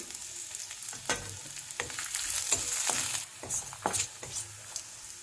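Curry leaves sizzle and crackle as they fry in a pan, with close, steady frying hiss broken by sharp pops and occasional stirring scrapes.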